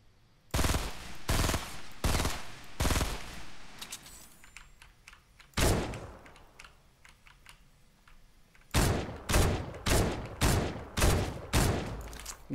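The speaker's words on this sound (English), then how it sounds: "He just got shotgunned." Shotgun blasts in the Fortnite Battle Royale video game: a burst of four quick shots, one lone shot, then a rapid string of six more, mixed with keyboard-like clatter and no talking.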